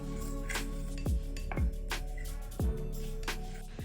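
A spoon clinks and taps against a small bowl while dry ingredients for a scalp treatment are mixed, with several sharp knocks at irregular intervals over a steady low hum and no talk.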